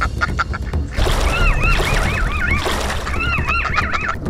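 A duck on a lake, attacked and eaten by a pike, gives repeated loud, harsh, wavering quacks and distressed calls in close succession over splashy, noisy background sound.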